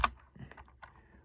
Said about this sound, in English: This is me typing, writing, right?